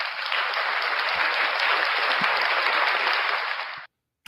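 Canned round of applause from a soundboard, a dense steady clapping burst lasting nearly four seconds before cutting off abruptly into silence.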